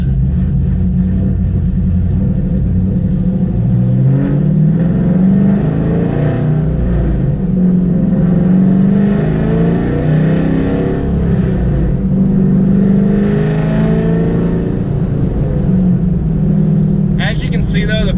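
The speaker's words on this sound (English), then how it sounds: "the car goes through the gears fine" A cammed Chevrolet Camaro 2SS with a troubled rear end runs up through its gears, a steady, loud throaty engine drone whose pitch climbs and drops with each shift across the stretch.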